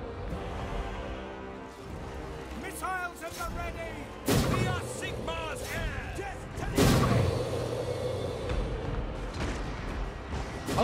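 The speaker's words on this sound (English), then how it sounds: "Mortar!" Mortar blasts and gunfire in a war video game, with sharp loud booms breaking over a dense battle din while a voice talks and shouts over the action.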